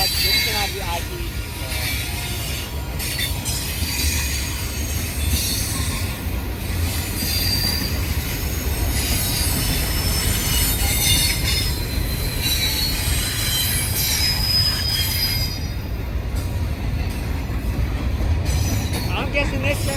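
A slow-moving BNSF freight train rolls past a station at about 15 mph, with continuous loud rumble, clanking cars and sustained wheel squeal. Voices are heard throughout.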